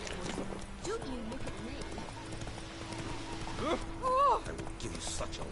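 A horse's hooves clip-clop at a steady walking rhythm in the video game Witcher 3, moderately close, with someone talking over them and a short whinny-like cry near the end.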